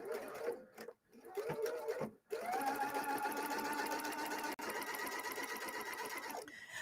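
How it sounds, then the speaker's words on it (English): A sewing machine runs a plain straight edge stitch through heavy specialty fabric, with a few short starts before a steady, close, continuous whir of about four seconds that cuts off abruptly. "we're just going to edge stitch that in place"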